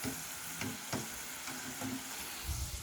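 Food frying in a pan being mixed to keep it from burning, with a steady sizzle throughout and a few soft scraping strokes of the utensil at intervals.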